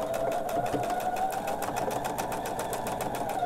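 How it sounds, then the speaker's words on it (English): A sewing machine stitches slowly through a quilt, a steady close whir with a rapid even needle rhythm running continuously and alone. "we're going to stitch from here to this point to right to where our stitching that we already did is. Nice and slow."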